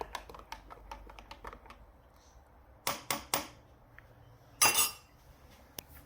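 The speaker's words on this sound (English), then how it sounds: "Give it a bit of a stir." Spoon stirring coffee in a cup, heard close and faint as a string of light clicks, then a few sharper clinks of metal against the cup and a brief scraping rattle near the end.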